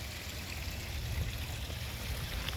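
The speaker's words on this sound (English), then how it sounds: "we get a little water circulating" Water circulates in a backyard pond that also has an air pump running, giving a steady, continuous trickling wash with no pauses and no voices.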